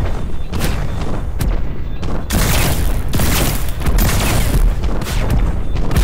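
Missiles launch from a combat vehicle in the MetalCore video game, a rapid barrage of loud booming shots with short gaps between them, heavy and continuous over the whole stretch, close with no talking.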